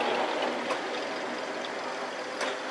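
A 1929 Studebaker Dictator engine idles steadily as the car rolls up at an outdoor car show, a continuous moderate rumble with broadband hiss and no talk.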